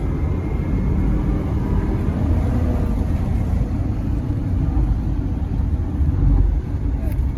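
A two-ton Hummer H3 drives along with a steady loud low rumble of engine and road noise, then braking hard, continuous and close throughout.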